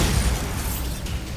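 Confringo blasting spell explosion in Hogwarts Legacy, a brief loud burst of broad, crackling noise with a heavy low rumble, close and alone.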